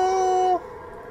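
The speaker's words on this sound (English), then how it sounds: "Why are there wolf noises?" A wolf howls in the DreadOut 2 video game, one sustained, steady tonal wail that cuts off abruptly after about half a second, loud and near, leaving a quiet hum behind.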